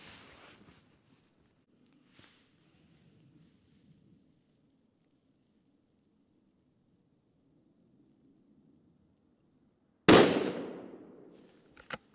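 A rifle fires a single sharp, loud shot near the end, and its report rings off and fades over about two seconds after a long, nearly silent wait outdoors.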